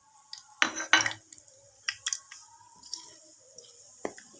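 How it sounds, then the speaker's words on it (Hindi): Cumin seeds dropped into a cooking pot for a mustard-greens saag with mustard-oil tempering, giving a few close clinks and rattles of metal cookware in short bursts, with small scrapes and taps between them in a quiet kitchen. "मैं ये थोड़ा सा ज़ीरा इसमें डालूँगी।"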